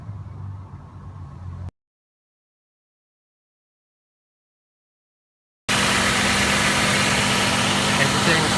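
A 2008 Honda CR-V engine with a new serpentine belt runs with a steady idling hum and loud, broad whir, after a short quieter stretch and a gap of silence.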